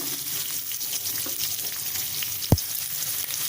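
Onions sauté in oil with mustard seeds and cumin, a close, even sizzle with fine crackle and one sudden low thump partway through.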